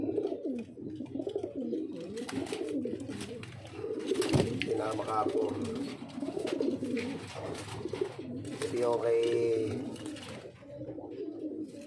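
A hen pigeon and other loft birds coo in soft, repeated bursts beneath someone talking nearby, the cooing rising and falling throughout.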